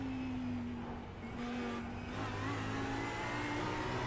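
A GT3 race car engine in a sim racing game at Sebring, a steady mid-pitched drone with slight hesitant wavering in the throttle while the car runs over bumps.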